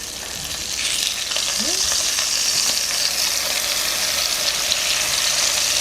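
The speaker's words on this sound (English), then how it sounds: "Now it's time to give them a flip." Burger patties sizzle loudly in a frying pan as they are flipped; a soft knock comes first, then the hiss swells to a constant close crackle.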